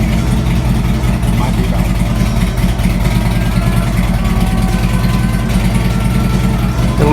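A Jeep WJ engine idles steadily and close by, a continuous low rumble running the whole time, with a person briefly speaking over it.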